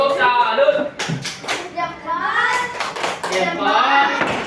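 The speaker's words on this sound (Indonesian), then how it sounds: "Tepuk salut." A primary school class does a rhythmic 'tepuk salut' patterned clap for group 1, crisp bursts of hand claps mixed with children's voices chanting along, close and fairly loud.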